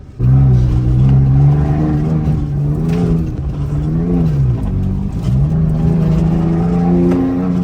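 Toyota Tacoma fitted with a Throttle Grenade, engine loud and close as it accelerates during high-speed off-roading, revs rising and dipping in several surges with a droning, shifting tone.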